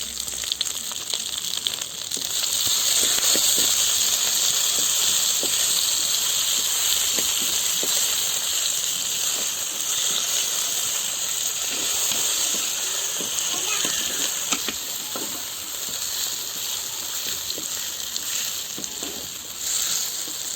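Masala frying in a pan for a sardine fish gravy cooked in a village kitchen, a loud continuous sizzle and hiss running throughout, with a voice talking over it.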